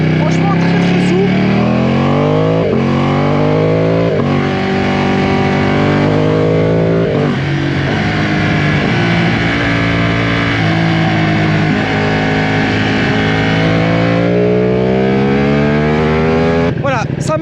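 A Ducati Panigale sport motorcycle engine revs hard and close on an open road, climbing in pitch through repeated upshifts with quick drops between gears, a voice talking over it.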